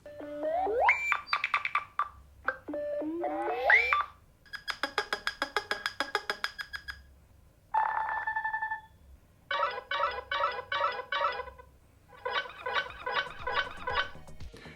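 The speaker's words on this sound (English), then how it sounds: "you also do get a whole new set of sounds for the Nothing Phone 2" A sequence of short electronic Nothing Phone 2 ringtone and notification tones: chirpy sweeps, rapid pulsing beeps and repeating chime patterns, each playing briefly in turn with small gaps.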